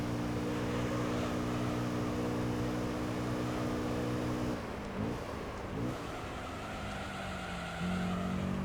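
Car with an aftermarket exhaust in Gran Turismo 3, a steady droning engine note holding pitch, dipping through quick gear shifts midway, then settling again, loud and constant with no talk.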